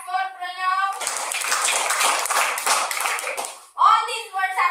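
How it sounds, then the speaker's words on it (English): Children clap for a classmate in a classroom, a dense burst of applause lasting about three seconds, set between an adult's spoken words before and after. "Clap for Pranav."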